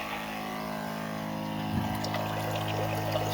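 An inline pump draws ice water from a cooler through a feed and return hose in an RZR air-conditioning setup, giving a steady, close liquid pour and hum with no talk.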